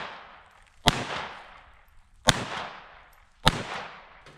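Three evenly spaced, sharp pistol shots from a Ruger Mark II or Browning Buck Mark .22 on a shooting range, each a crisp crack followed by a short fading echo, moderately loud with no talking.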